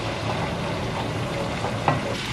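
Onion and mushroom sizzle steadily in melted butter in a pan, a dense continuous frying hiss with a faint stir or clink near the end and no talking.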